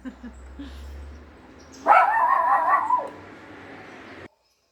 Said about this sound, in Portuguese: Se meu cachorrinho latir, não repare, é porque o moço do lixo, o caminhão do lixo está passando.